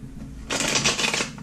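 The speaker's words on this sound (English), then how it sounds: "Ooh, one more shuffle." A quick riffle of tarot cards being shuffled, a dense papery flutter lasting about a second, close by with no talking.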